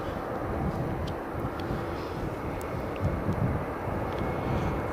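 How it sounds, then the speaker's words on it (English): An Air Baltic Airbus A220 airliner on an intersection takeoff at Riga International Airport in snow: a steady, broad engine roar heard from a distance, fairly quiet with wind noise and no talk. "the A220 that was just taxiing the runway is taking an intersection takeoff"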